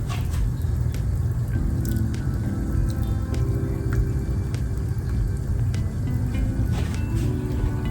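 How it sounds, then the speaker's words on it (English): Heavy whipping cream pours into a pot of white lasagna soup, a soft continuous liquid squish and splash alongside faint clinks, with no talking. "I think I'm gonna add about a cup of heavy whipping cream to mine"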